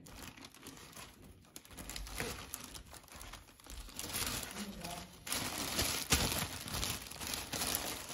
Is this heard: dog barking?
no